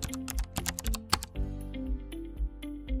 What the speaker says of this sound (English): Press Enter on your keyboard to access the page.